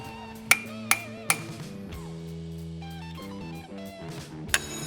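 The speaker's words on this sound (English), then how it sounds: "Using a pipe around your grease cap and the side of your sledgehammer will help with even pressure." Three sharp metallic taps in quick succession, then a fourth a few seconds later, as a sledgehammer drives a grease cap on through a pipe on a 1970 Chevy Chevelle, with tonal background sound throughout.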